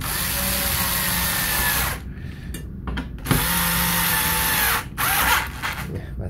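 A screwdriver turns the mounting screws of a PCCOOLER CPS RT400 tower CPU cooler on an AMD AM4/AM5 socket, making loud close mechanical whirring and grinding in long bursts broken by short pauses. No speech.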